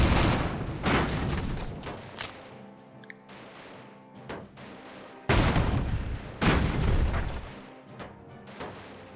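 Bombs exploding in Airships: Conquer the Skies, a series of loud booming blasts and thuds in quick bursts, with heavier explosions clustered near the end and a rumbling battle din between them.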